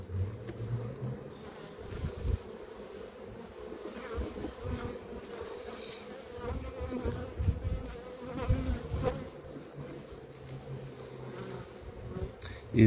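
A honeybee colony hums inside an open hive, a dense, steady buzz of many bees that stays close and fairly even, with a few louder swells, and no voices over it.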